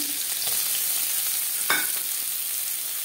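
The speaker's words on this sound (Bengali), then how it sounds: "কড়াইতে আবারও তেল দিয়েছি। দিয়ে দেব পেঁয়াজ কুচি" Steady oil sizzle with a sharp burst as chopped onion drops into the hot pan, previously used for frying fish, then continuous frying hiss.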